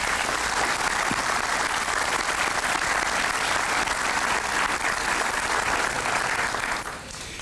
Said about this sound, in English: could you join me in a round of applause for these folks?